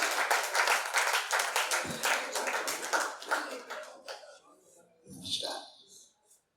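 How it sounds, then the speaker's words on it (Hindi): Applause from the audience at a Hindi poetry gathering: strong, rhythmic clapping from many hands fades after a few seconds, followed by a brief lone voice and a short burst of clapping. "एक बार जोरदार तालियां बजाएं"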